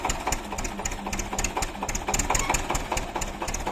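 An engine idles with a rapid, uneven ticking chatter, running low and faint without climbing in pitch, failing to rev up after prolonged frost.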